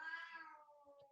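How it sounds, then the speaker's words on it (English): A cat's meow, a drawn-out falling cry followed by a softer short chirp, faint and close, with no talking over it. "It's a cat. Oh, cat."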